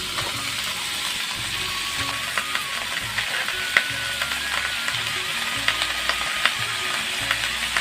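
Diced potatoes and sweet pumpkin stems fry in hot oil with a loud, steady sizzle and a scatter of sharp crackling pops throughout. No one speaks.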